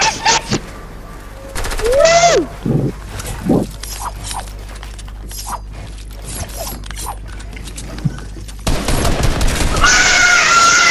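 Fortnite zone wars gunfire mixed with a busy stream of game effects: scattered shots and mechanical clicks throughout, then a dense, loud volley of fire near the end, with brief excited voices.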